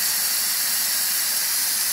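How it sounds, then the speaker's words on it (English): A pressure canner vents steam after its weight is lifted while canning chicken broth, giving a loud, steady, unbroken hiss that holds level throughout with no talk. "I'm going to take the weight off, and it's going to release the steam."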